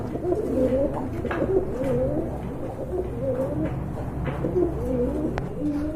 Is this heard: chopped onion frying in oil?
no